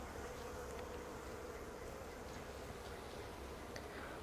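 Honeybees hum steadily inside an open beehive during a late-season inspection with frames pulled out, a low continuous drone with faint scattered buzzes, fairly quiet and with no voices.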